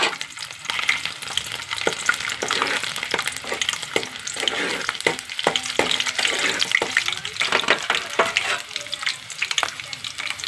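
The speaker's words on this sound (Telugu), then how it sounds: "చూడండి ఆయిల్ ఇటెక్కింది ఎల్లిపాయలు వేస్తున్నారండి" Garlic frying in hot oil for a poppy seed curry, a steady dense sizzle with stirring scrapes and occasional clicks, no talk.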